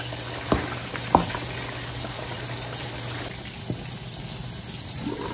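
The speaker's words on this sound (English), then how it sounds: "so it's been simmering for a few minutes" Sweet and sour sauce for fried tilapia simmers in a pan, giving a soft steady sizzle and bubble with a few sharp clinks of a utensil against the pan. No talking is heard.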